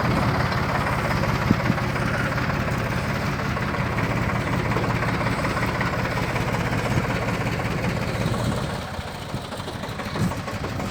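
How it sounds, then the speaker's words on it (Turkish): A tractor-driven fertilizer spreader, powered by the tractor's power take-off, applies fertilizer below ground in a vineyard, running steadily with a low engine drone and mechanical rattle, continuous and fairly loud throughout, easing slightly near the end. "Makine tamamen traktörün kuyruk biliyle çalışan bir sisteme sahip."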